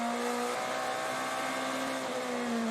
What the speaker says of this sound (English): you can just hear how tentative the 25 car is in the throttle